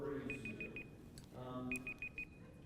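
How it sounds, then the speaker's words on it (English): A presentation timer at a conference keynote beeps in two quick runs of four or five evenly spaced electronic tones, sounding over the murmur of a large room with voices in the background. "The timer is telling us either that we're out of time or I'm going to explode."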